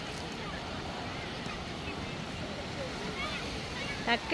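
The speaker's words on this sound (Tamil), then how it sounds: "கடலில் தண்ணி ஏறி கொண்டிருக்குது." Rising sea waves wash against the shore below the fortified walls at Saint-Malo in Brittany, a steady, broad surf roar mixed with buffeting wind on the microphone and faint voices.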